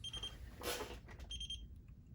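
A CNC machine beeps to signal it is ready for a bit change: two short, quiet electronic beep bursts separated by a brief clatter, set against faint background hum.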